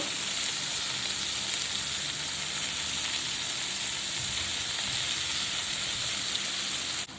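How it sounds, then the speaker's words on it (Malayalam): Marinated chicken breast strips sizzle steadily in butter with garlic in a hot pan, a loud continuous frying hiss without pause and no talking. "ബട്ടറിൽ കിടന്ന് ഈ വെളുത്തുള്ളി നല്ലൊരു ഗോൾഡൻ ബ്രൗൺ ആയി വരുമ്പോൾ നമുക്ക് മാരിനേറ്റ് വെച്ചിരിക്കുന്ന ചിക്കൻ്റെ ബ്രസ്റ്റ് സ്ട്രൈപ്സ് ഇട്ട് കൊടുക്കാം"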